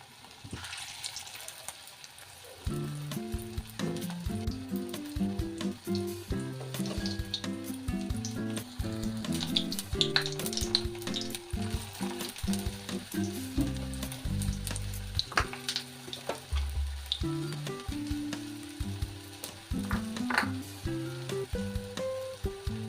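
Bottle gourd kofta balls fry in hot oil with a continuous crackling sizzle, partly covered by steady background music with a melody.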